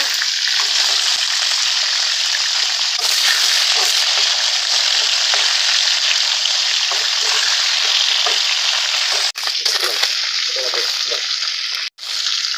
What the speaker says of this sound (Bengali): এক পাশ ভাজা হয়ে গেছে, উল্টাই নেবে, উপর পাশটাও ভেজে নেব